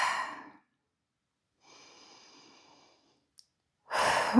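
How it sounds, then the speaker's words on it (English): A slow, deep breath: a long, soft inhale, a pause, then a clearer exhale, quiet and close, followed by a louder breath out. "Take a deep breath in."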